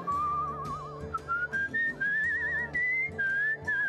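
In Where the Water Tastes Like Wine, a character whistles a meandering, rising melody in quick linked phrases, clear and close over gentle background music.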